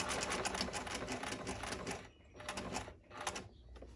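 A sewing machine stitching a smaller stitch along a line, a steady fast mechanical whir and chatter that pauses briefly twice near the end before resuming.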